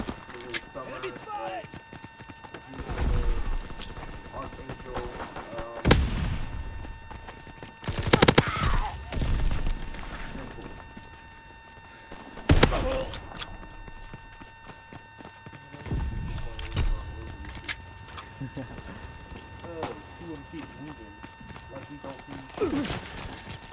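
Gunfire in the World War II shooter game Call of Duty: WWII, scattered bursts and single shots spread across the span with footsteps and action noise between, while someone talks over the game throughout.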